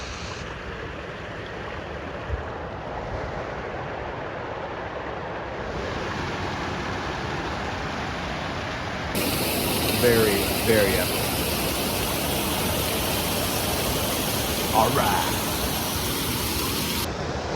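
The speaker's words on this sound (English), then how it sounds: "Now this is a real waterfall." O Kun De Kun Falls, a waterfall in Michigan's Upper Peninsula, roars as a steady broadband rush that swells louder midway as the camera nears, with someone talking briefly over it.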